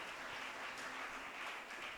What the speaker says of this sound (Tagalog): Palakpakan natin ang ating pinakamamahal na Panginoon.